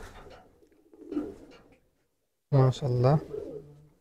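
Pigeons at a pigeon tournament in Munshiganj give a short burst of low, throaty cooing close by, with someone speaking briefly before it.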